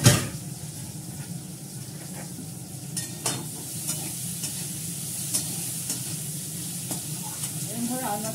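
Green chili and ginger paste sizzle steadily in hot oil, a constant close crackling hiss with occasional stirring knocks and scrapes throughout.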